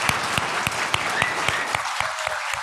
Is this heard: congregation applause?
yes